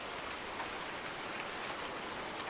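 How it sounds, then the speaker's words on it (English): A heavy rain downpour falls steadily outdoors, producing a dense, even hiss of drops hitting surfaces with no voices heard. "Not sure I like standing out here in the rain too much."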